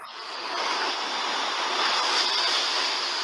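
Sea waves breaking twenty feet below a cliff, a steady loud roar and hiss of surf that swells slightly and never pauses, heard alone.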